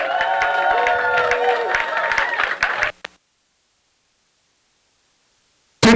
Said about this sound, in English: Let's give Mayi Tangim a mighty hand of applause.